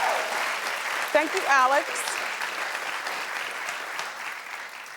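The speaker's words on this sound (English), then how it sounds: "the crowd went wild" A studio audience applauds and cheers continuously through the whole stretch on a daytime talk show, with a short spoken thank-you rising over the clapping.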